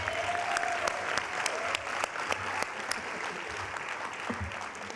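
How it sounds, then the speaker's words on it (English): A seated audience at the Who's Who in Black Columbus 2025 event claps in steady applause, moderately loud, with a few sharper individual claps standing out near the front. "Give them a round of applause, please."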